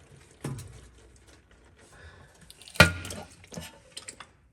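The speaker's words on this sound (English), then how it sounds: "I just cracked the seal. And we're starting to leak all the fluid out." Differential fluid from a Ford F250 differential with its cover seal just cracked, dripping and splattering in a few separate drops and spills, close and quiet, with one sharper splash near the middle.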